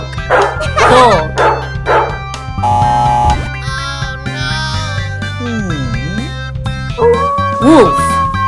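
A voice playfully imitates a dog's woof and yips, several short bouts, over loud cheerful music.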